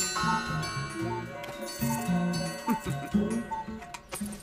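Several clocks and watches chime seven o'clock together, overlapping tinkling rings and dings with some ticking, close and clear, layered in irregular clusters with no voices.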